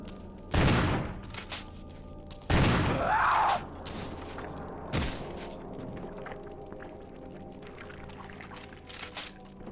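Gunfire aimed at a giant snake in Resident Evil 1 comes as a few loud, widely spaced shots, one followed by a rising creature cry, over a low, quiet background.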